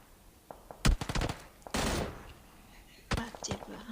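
Gunfire in the video game PUBG: clusters of quick, moderately loud shots in short bursts with a brief noisy stretch between them, while a player talks faintly over the action.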